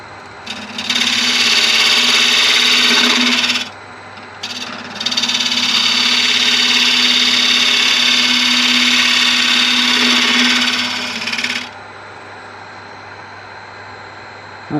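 Wood turning on a lathe as a camera-lens clock piece is sloped: loud, steady scraping and cutting bursts of about three and seven seconds, separated by brief pauses, over a continuous motor hum.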